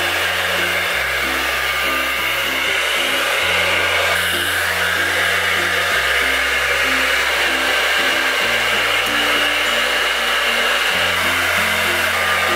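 A handheld hair dryer roars continuously at close range while short hair is blown dry, its pitch stepping between settings and shifting slightly as it moves, with no talking.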